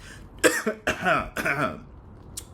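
A few close, raspy coughs in quick succession, with a brief throat-clearing catch at the end, no talking.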